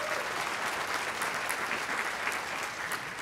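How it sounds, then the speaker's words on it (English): Audience applause at a business event, steady and dense clapping from a crowd filling the whole stretch without a pause, fairly loud and even throughout. "You can clap for that."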